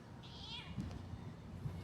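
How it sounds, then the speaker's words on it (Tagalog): A cat in a small home garden gives one short, rising-and-falling meow, heard fairly near over low background noise and a faint voice. "Alam kong bantay na pusa."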